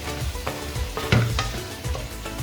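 Blended onion sizzles loudly in hot oil on high heat for a restaurant-style beef karahi, with steady frying hiss broken by repeated scraping thuds of a spoon stirring the pot.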